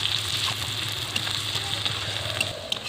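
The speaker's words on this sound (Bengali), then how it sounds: "পেঁয়াজটা একটু ভাজা ভাজা হয়ে গেছে" Chopped onions and chopped chillies sizzle in a pan of melted sugar for a raw fish curry, a steady close frying hiss with no talking.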